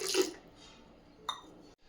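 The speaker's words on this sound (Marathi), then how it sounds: "हवं असेल तेवढं थंड पाणी आपल्याला ह्याच्यामध्ये आता घालून घ्यायचं आहे" Cold water poured into boiled raw-mango panha in a vessel, a short splashing gush at the start followed by a brief second pour, fairly close with no talk.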